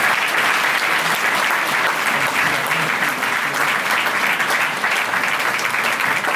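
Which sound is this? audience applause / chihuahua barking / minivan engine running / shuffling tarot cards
audience applause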